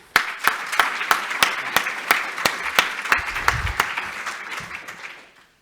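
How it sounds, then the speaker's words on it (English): Rhythmic applause at a scientific conference's closing session, BioVis at ISMB/ECCB 2017, for the organizing committee: a small audience claps in steady, evenly spaced beats for about five seconds before it fades out. "I want to give a big hand of applause to the organizing committee"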